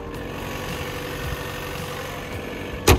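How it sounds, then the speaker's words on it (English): A hybrid car's front-mounted gasoline engine/generator idles with the hood open, a steady close low drone with a faint rhythmic pulse and a sharp knock near the end. "the car just started the engine and it is now running the engine slash generator in the front of the vehicle"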